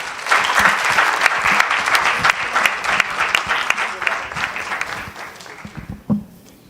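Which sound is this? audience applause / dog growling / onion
audience applause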